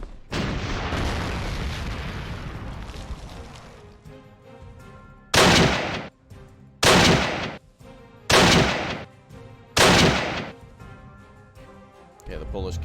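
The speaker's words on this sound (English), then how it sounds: "Let's try again with artillery." Artillery fire in the Panzer Corps 2 war strategy game, a rumbling barrage trailing off, followed by four loud, evenly spaced booming shots, each with a short decay, with a voice talking in between.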